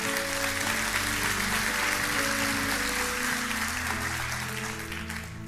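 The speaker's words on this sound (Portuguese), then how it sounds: "Dê o melhor aplauso que você pode dar ao Senhor." Congregation applauding during a church service, steady loud clapping throughout with an organ or keyboard sustaining chords underneath.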